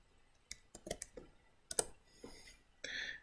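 A run of sharp, close computer keyboard clicks as a measurement is typed in. The keystrokes are uneven and spaced apart, quiet, with no talk.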